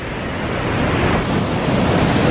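Water rushing over the top of Yosemite's waterfall, heard as a loud, steady broadband roar that swells slightly midway, mixed with some wind buffeting on the microphone and no voices.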